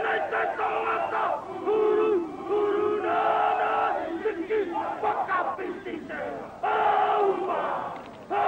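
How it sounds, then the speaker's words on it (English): A large stadium crowd roars and chants at a 1993 rugby match between South of Scotland and New Zealand, loud and continuous with rhythmic surges, the massed voices carrying a haka-like cadence. "a great cheer for the New Zealanders there"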